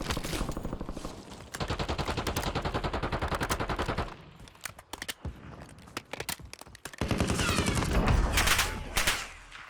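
Gunfire in Call of Duty's Verdansk map: rapid automatic bursts crackle close and loud, broken by a patch of scattered single shots and quieter gaps, then another sustained volley, with no speech.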